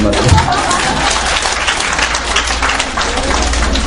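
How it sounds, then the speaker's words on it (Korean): Audience applause fills a school lecture hall during a talk on elementary reading, steady broadband clapping from a crowd lasting about four seconds, close and loud throughout. "보통 이런 데서 박수하는데"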